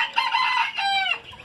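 Backyard chickens waiting for their morning feed call out loudly and close by in one drawn-out, harmonic squawk, then a second shorter one, with no speech.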